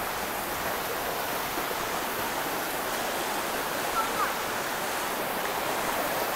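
A river flows steadily at a riverside campground in Janda Baik, Pahang, giving a continuous broadband rush of water that holds even and moderately loud throughout, with no distinct events standing out.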